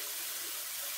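Boiled beans are drained, with their cooking water pouring out in a steady, loud rush of splashing that continues without a break.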